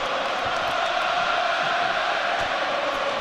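A stadium crowd at the Principality Stadium in Cardiff roars steadily in support of boxer Anthony Joshua late in a fight, a dense, continuous wall of cheering and shouting that stays level throughout.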